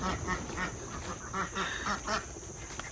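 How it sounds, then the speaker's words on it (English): Several ducks quack repeatedly on a rural homestead, a close, busy run of rhythmic calls lasting the whole stretch with no talking. "I have to run away from the ducks because I can't talk to you."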